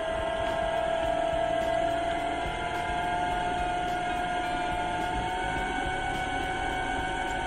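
A wood turning lathe spins at about 1300 RPM, giving a steady, unbroken motor hum with a thin whine on top, close and constant throughout.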